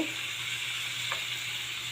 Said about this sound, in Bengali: আস্তে আস্তে ভাজা ভাজা করব।